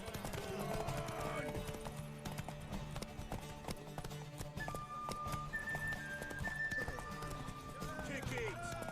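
Horse hooves clip-clop steadily with an occasional whinny in The Witcher 3: Wild Hunt, set against busy game ambience, bright chiming tones and voices talking.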